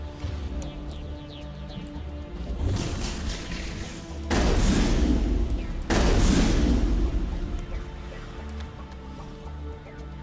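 Weapon fire with Inferno rounds in the Mass Effect video game, heavy booming bursts and rumbling blasts over a continuous game soundscape, with two loud sustained stretches midway.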